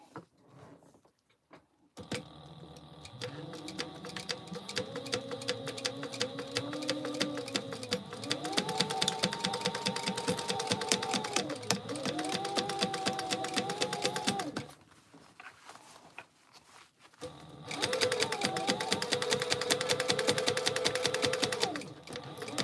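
A home sewing machine stitching a tote bag with a half-inch seam, rapid close needle chatter with a whining motor rising and falling in bursts, separated by short pauses.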